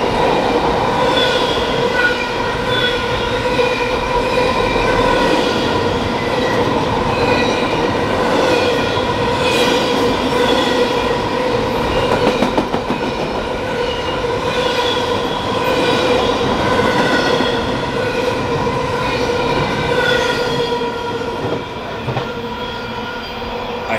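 BNSF westbound train rushing past La Plata, Missouri station on the Marceline Subdivision, a loud sustained roar with clattering wheels and squealing tones throughout, close by.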